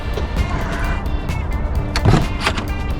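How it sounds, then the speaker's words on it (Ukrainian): A Tesla car door opens at a car auction in Miami, with soft mechanical clicks and a brief latch thump amid steady outdoor background noise. "Дивіться, як відкривається автомобіль."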